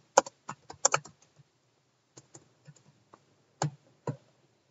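Someone types a comment on a computer keyboard in quick, uneven bursts of crisp key clicks, with a brief pause before a few final taps, close by and without any voices.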